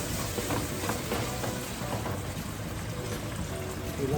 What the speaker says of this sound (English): I've got some Chardonnay to deglaze the pan for the carrots.